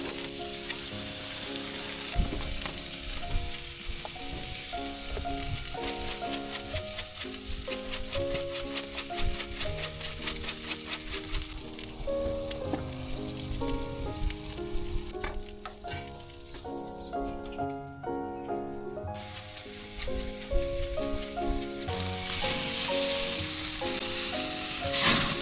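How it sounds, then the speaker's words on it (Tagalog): A steak fries in a pan with continuous loud sizzling and spattering, under music with no talking. "So magluto lang ako dito ng steak para meron tayong makain pang dinner, no."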